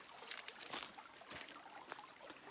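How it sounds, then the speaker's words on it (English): A creek runs near Patagonia, Arizona, with a steady close rush and trickle of water and a few brighter splashing surges. No one speaks. "There's the creek."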